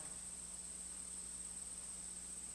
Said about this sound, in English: this very fine, subtle hum of insects